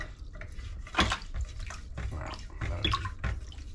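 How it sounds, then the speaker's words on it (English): Cold water runs into a container while a black powder firearm is being cleaned, a continuous splashing, gurgling flow with uneven bursts, fairly close and heard on its own. "And we're going to fill this with cold water."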